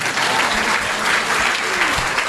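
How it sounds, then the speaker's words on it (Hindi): An audience applauds a couple at a religious gathering, dense steady clapping filling the whole moment without pause. "एक बार इन जुगल जोड़ी के लिए ताली बजाओ।"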